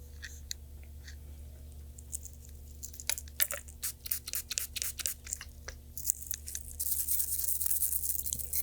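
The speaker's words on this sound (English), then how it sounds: "gently scrub the exterior of the barrel and locking block with the nylon toothbrush" A nylon toothbrush moistened with cleaning solution scrubbing the exterior of an H&K VP9CC pistol barrel and locking block, faint, quick bristle strokes in bursts that grow busier and scratchier toward the end, over a low hum.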